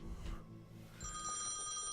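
Payphone in the video game Thimbleweed Park ringing: a bright electronic bell-like trill with steady tonal harmonics begins about halfway through and continues clearly to the end, following a short stretch of low background tones.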